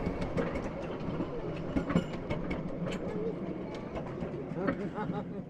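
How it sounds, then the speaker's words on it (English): A 7 1/4 inch miniature railway locomotive running on track, with steady rolling rumble and light rhythmic clicking of wheels, moderately close, as birds call faintly in the background. "And the loco's going to do a run around."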